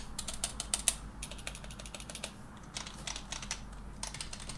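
Rapid clacky presses on a Gearmaster Phantom Max GMK-098 mechanical keyboard with semi-blue switches, bursts of quick keystrokes with short pauses, close and fairly quiet.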